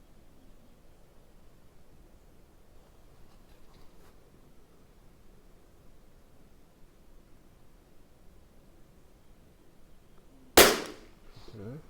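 A single sharp shot from a Tikka T1x .22 LR rimfire rifle, loud and close near the end, following a long stretch of quiet outdoor background noise.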